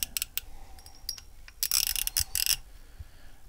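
Sharp rapid clicking from a budget Daiwa fixed spool fishing reel, bursts of close metallic ticks with brief pauses, a denser run of clicks in the middle, no speech.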